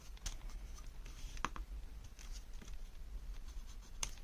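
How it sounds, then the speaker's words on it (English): A pencil marks paper while a simple mini album is being crafted: a few faint, quiet scratching strokes close by, with soft handling noises and no talk. "let me make a pencil mark because I will not remember where I line things up at."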